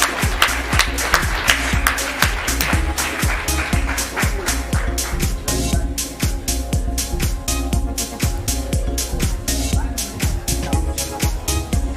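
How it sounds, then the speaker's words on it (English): Audience at a global summit in Germany claps for the football legend Hansi Müller, with sharp, evenly spaced beats riding over a sustained musical bed throughout. "Ladies and gentlemen, huge round of applause for the legend Hansi Müller."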